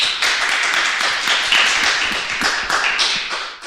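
A live podcast audience claps together in answer to a show-of-hands poll, a thick, even wash of many hands that starts abruptly and holds steady at close range, loud and without voices over it.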